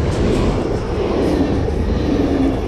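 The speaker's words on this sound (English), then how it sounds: "So another train is coming, as you can hear." A train rolls past near the shore of Lake Zürich, a steady loud rumble of wheels and carriages with faint squealing tones, continuous and close for the whole stretch.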